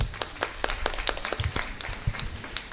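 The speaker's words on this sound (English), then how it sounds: "give her a big round of applause" Steady applause from a crowd at a graduation ceremony, many hands clapping in a dense, continuous patter.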